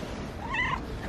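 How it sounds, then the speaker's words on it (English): A small street cat in Sarajevo gives a soft, rising meow with a short second call at the end, heard close over steady outdoor background noise. "Little cat friend."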